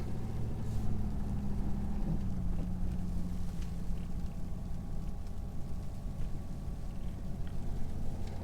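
A 2020 Ford F350 Powerstroke on 37-inch Falken Wildpeak tires drives onto a snowy, unplowed asphalt road, its engine a steady, low, rumbling drone that holds throughout with no talking.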